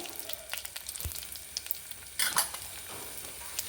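Chana dal, urad dal and fenugreek seeds fry in a couple of spoons of oil, making a faint, even hiss with light crackles and a soft scrape of stirring.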